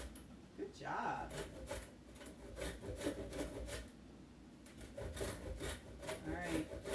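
Fresh horseradish root being rubbed on a hand grater over a bowl, a quiet, irregular scraping repeated in short strokes, with voices talking over it.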